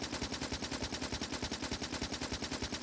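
Video game turrets fire their machine guns in a rapid, evenly paced stream of loud shots that runs without a break, with no voices.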